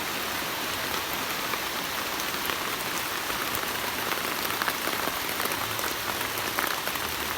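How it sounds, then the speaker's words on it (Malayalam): Heavy rain pours down near a pond, a dense, continuous hiss of drops drumming on surfaces that stays loud and steady throughout with no voices. "നല്ല മഴയാണ്."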